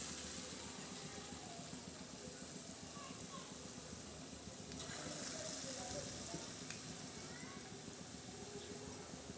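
Sweet gulgule fritters of wheat flour and jaggery bubble in hot sweet oil, a soft continuous sizzle with faint pops heard up close, with someone talking quietly over the frying.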